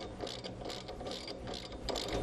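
A socket wrench loosens the rear axle nut on a TVS Star Sport motorcycle, giving steady, close ratcheting clicks that run continuously without a break.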